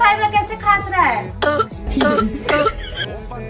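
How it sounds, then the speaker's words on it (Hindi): A person coughs and clears their throat in a comic skit, a series of harsh, loud barking coughs in quick bursts, close to the listener. "वो देखो डॉक्टर साहिबा कैसे खांस रहा है।"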